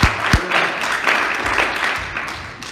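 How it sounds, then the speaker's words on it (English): Church congregation clapping in praise, a broad wash of hand claps spread across the room, steady and moderately loud with a few sharper claps near the start. "Let's give the Lord a hand clap of praise."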